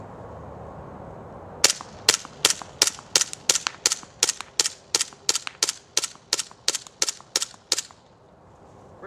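A WE PX4 airsoft pistol under a torture test fires a third magazine: about twenty sharp, snappy shots in a fast, even string, close and crisp, then it stops dry.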